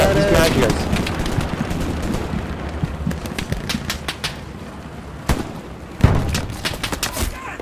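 Gunfire in the video game Hell Let Loose: repeated sharp shots and short bursts crack out at varying distances, with players talking over the shooting.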